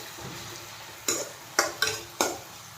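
Tomatoes cook down in a pan for a fish curry, a soft low sizzle broken by four sharp knocks of a utensil stirring against the pan.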